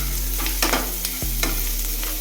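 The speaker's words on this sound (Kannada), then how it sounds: "ಮತ್ತು ಮೆಣಸು, ಚೆನ್ನಾಗಿ ಫ್ರೈ ಮಾಡಬೇಕು." Chillies frying in a pan for a spicy Karnataka-style chutney, a close bright sizzle with several scraping stirs of a spoon against the pan, no voices.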